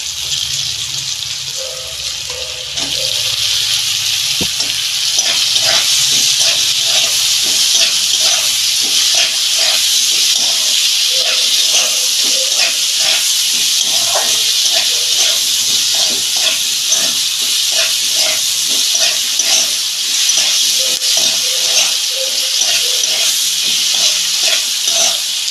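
Onion and turmeric hit hot oil for a fish-head and cabbage dish, giving a loud, continuous hissing sizzle with scattered crackles and pops, close up and without speech.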